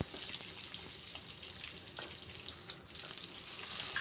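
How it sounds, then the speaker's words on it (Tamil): Native shallots sautéing in a pan, a soft steady sizzle with faint stirring, close but quiet and uninterrupted. "நாட்டு உள்ளி போட்டு நல்லா ஒரு வதக்கி எடுத்துக்கிடணும்"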